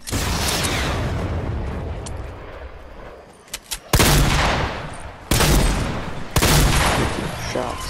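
Loud bursts of gunfire in Fortnite, Battle Royale mode: a dense rattle of shots up close, then a quieter lull, then three sharp, heavy volleys in quick succession.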